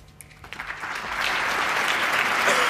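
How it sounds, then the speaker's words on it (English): Snooker crowd at Wembley during the 2010 Masters, applause that starts with a few claps and swells into sustained, loud clapping from the audience. "So this knowledgeable Wembley audience applaud"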